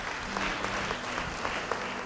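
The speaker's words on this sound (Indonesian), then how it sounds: "Beri tepuk tangan bagi dia" Steady applause from a church congregation during a sermon, a continuous wash of clapping at moderate level with no speech over it.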